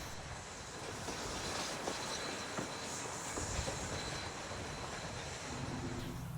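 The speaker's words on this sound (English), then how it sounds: "The passenger train runs through Brightside without stopping on its way back to Niles." Steam passenger train on the Niles Canyon Railway during Steamfest 2007, running through Brightside without stopping, a steady, close rolling rumble with faint wheel squeal.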